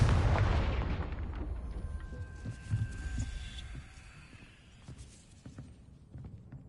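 A fiery Confringo blast spell from the Hogwarts Legacy video game bursts as a loud, deep explosion at the start, then trails off into a low, rumbling decay with scattered crackles and no voices.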